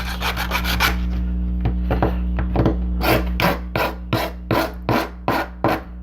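A hand file rasps the sharp edges of a metal model kit part, quick scraping strokes close up, first in a fast run, then in slower separate passes with short pauses between them.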